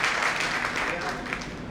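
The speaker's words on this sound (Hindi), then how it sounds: "बहुत बढ़िया, जोरदार तालियां दीदी के लिए।" Audience applause at a network marketing training event in Meerut, a steady wash of clapping filling the room for the whole stretch, with some voices mixed in.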